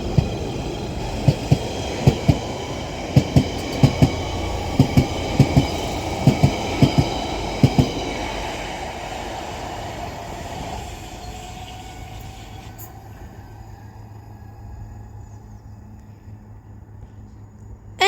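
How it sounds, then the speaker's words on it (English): A London Underground Central Line 1992 stock train pulls away toward West Ruislip, its wheels clattering over rail joints in a steady clickety-clack that fades out as it moves off, leaving a quiet hum. "Now departing to be a London Underground Central Line 92 stock for West Ruislip."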